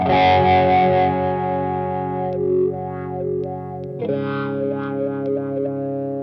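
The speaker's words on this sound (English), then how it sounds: "So with a really wide frequency range, it sounds more like a normal, old-fashioned sort of 70s, 80s, 90s Crybaby." Electric guitar through a Dunlop Crybaby Q Zone fixed wah pedal set to a wide frequency range, giving a vintage Crybaby tone; loud distorted sustained chords ring out, shift, then restrike, with no talking.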